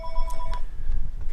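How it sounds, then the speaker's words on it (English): A telephone rings with a bright electronic trill, steady and fairly close at first, then fading under a low rumble of room noise. "The phone hasn't quit ringing"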